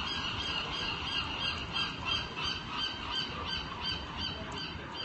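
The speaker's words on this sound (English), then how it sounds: "You guys hear the seagulls too?" Seagulls calling again and again near the waterfront at Cannery Row, their harsh, honking cries overlapping at a steady, fairly loud level with no talk.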